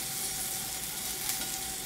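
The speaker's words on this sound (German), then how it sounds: "fangen an, in der Pfanne die Butter zu schwenken, also quasi in der im karamellisierten Zucker." Butter sizzles in caramelized sugar in a pan while bananas are flambéed, giving a steady, close, crackling hiss with no speech.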